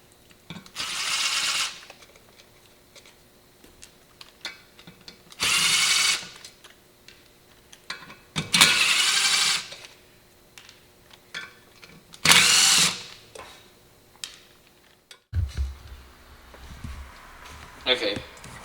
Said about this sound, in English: I'm just gonna use the little impact here